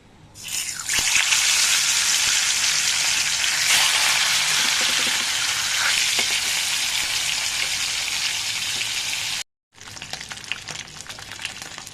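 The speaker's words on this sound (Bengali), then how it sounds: "তেলটাও দিয়ে দিয়েছি, তেলটা গরম হয়ে গেছে। এখন আমি মাছগুলো ভেজে নেব।" Tilapia pieces dropped into hot oil in a wok, bursting into a loud, dense, steady sizzle that holds throughout, briefly cut off near the end and then resuming.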